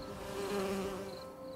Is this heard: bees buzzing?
yes